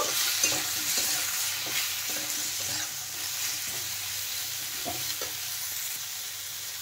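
Salt, turmeric and chili powder being stirred in a pan with a low, steady sizzle under repeated soft scraping strokes of a spatula, moderately close and without any voices.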